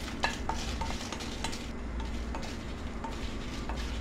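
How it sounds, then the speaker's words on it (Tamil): Ten dry red chillies roast in a hot nonstick pan under a constant frying hiss, with quick repeated spatula scrapes and taps close by, and nobody speaks. "ஹீட் ஆனதுக்கப்புறமா 10 காஞ்ச மிளகாவை போட்டு லைட்டாக வறுத்து எடுத்துக்கலாம்."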